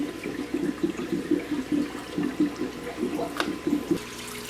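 An Fx6 canister filter on a 125-gallon aquarium gurgles and sloshes as it purges trapped air, giving a close, irregular run of bubbling water pulses with a brief sharper splash near the end.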